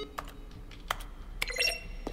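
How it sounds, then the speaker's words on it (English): Button presses in The Stanley Parable, each a crisp keyboard keystroke blended with a short synthesized tone, come as a few sparse clicks and bright beeps against quiet room tone. "each sound is a mix of keyboards, stroke, and a synthesized tone."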